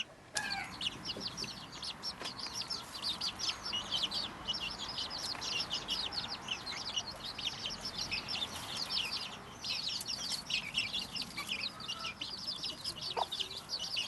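A hen clucks softly among her peeping chicks, the young birds' high chirps dense and continuous throughout, with occasional low clucks from the mother; close and fairly quiet, no talk.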